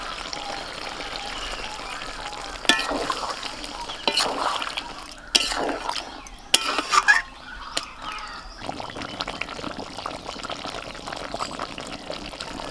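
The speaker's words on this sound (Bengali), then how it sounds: "এবার উষ্ণ গরম জল আমি দিয়ে দিচ্ছি।" Warm water poured into braised Kashmiri chicken masala in a pan, with splashing and sizzling bursts in the middle, scattered clinks and drips, and a softer bubbling after.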